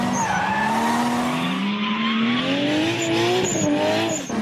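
A car drifts through a turn on a hard handbrake pull, tires squealing over a rising, revving engine; loud, close and continuous, with no talking.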